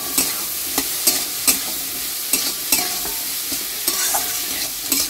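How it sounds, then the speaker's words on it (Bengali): Three kinds of capsicum and two green chillies stirred in a hot pan: steady frying sizzle with repeated scraping strokes of a spoon every second or so, close up, with no talking. "দেখুন এবার আমি 3 রকম ক্যাপসিকাম আর দুটো কাঁচা লঙ্কা নিয়েছি, নিয়ে আমি দিয়ে দেবো, দিয়ে ওর সঙ্গে নাড়িয়ে নেবো।"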